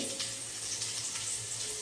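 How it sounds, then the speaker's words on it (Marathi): Potatoes frying in a spiced oil tempering, a steady close sizzle with soft bubbling crackle throughout. "बटाटा सोडला इकडं फोडणीला टाकलाय"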